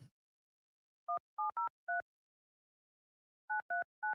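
Telephone keypad tones dialing a call: a short burst of four dual-tone beeps, a pause, then three more, each crisp and evenly spaced in near silence.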